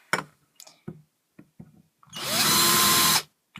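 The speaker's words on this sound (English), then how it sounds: "Oh, drill bit locked." An electric drill bores holes for a homemade penny stove, a steady high whine lasting about a second after several short knocks, close and loud before it cuts off abruptly.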